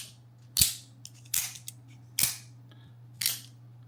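Four sharp metallic snaps of an automatic knife blade flicking open, from a Microtech and an Atomic knife, the latter deader-sounding, spaced about a second apart, close by over a faint low hum.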